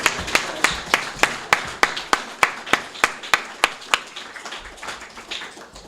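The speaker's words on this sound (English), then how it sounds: "Let's give them a round of applause." Scattered clapping from a congregation in a mosque, a series of sharp, distinct claps in a loose rhythm that thin out and fade toward the end.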